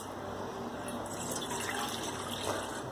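Water poured into a plastic bottle to sprout beans, a steady, close trickling and splashing flow that runs continuously with no speech.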